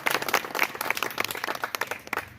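Audience applause at a Pakistani ustad turban-tying ceremony for Rana Altaf, a dense run of overlapping claps that fills the whole short stretch at steady loudness.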